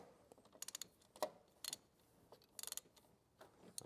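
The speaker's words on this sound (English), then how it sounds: "then we'll put the ratchet on here and then back it off" A ratchet clicks in short quick bursts while backing off the oil pressure sending unit on a 2000-2006 GM truck, crisp and close with quiet gaps between turns.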